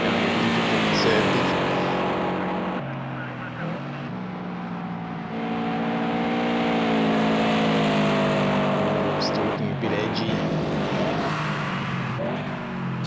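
Toyota 86 race cars circulate on a track, engines droning and shifting pitch as they run past at moderate distance, with rising and falling tones across the clip and a voice talking over part of it.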